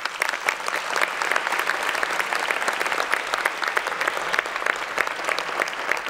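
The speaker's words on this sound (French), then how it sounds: "Ils sont là, vous pouvez les applaudir." Audience applause for a children's municipal council at a 2024 New Year's greetings ceremony in Massy, a dense, steady clapping from a sizeable crowd that holds at an even level from start to finish with no voices above it.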